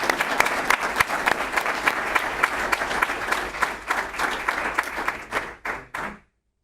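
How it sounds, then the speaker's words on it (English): A big round of applause from the audience at a city council meeting, dense and steady clapping from many people that thins into a few scattered claps and stops abruptly. "Please let's give him a big round of applause again."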